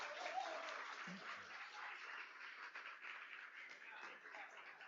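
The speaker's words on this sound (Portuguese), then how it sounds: "Uma salva de palmas para vocês" Sustained applause from a crowd, dense clapping that stays even throughout, with a voice faintly audible underneath.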